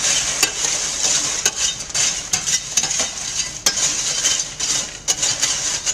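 Kettle corn being stirred back and forth in a Gold Medal popcorn kettle, the sugar-coated kernels rattling and sizzling in a dense, continuous scrape with steady rhythmic strokes up close.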